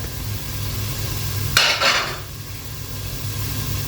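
Ground coriander and turmeric tipped into a pan of frying garlic and ginger, giving a short bright rattle and sizzle burst of about half a second over a steady low hum of kitchen background.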